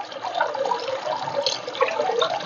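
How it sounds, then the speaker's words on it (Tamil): Water from a household pump overflows and pours into a tub, a steady splashing, gurgling rush that stays loud and close throughout with no voices. "ஓவர்ஃப்ளோ ஆகும்போது பார்த்தீங்கன்னா இந்த டப்பில் வந்து தண்ணி ஃபுல்லாக நிரம்பும்"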